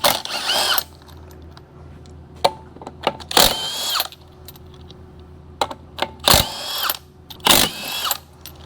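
A power tool, likely an impact wrench, removing the front wheels from a Foxbody Mustang in a garage, with several loud short bursts and ratcheting whirs separated by quiet gaps and faint clinks.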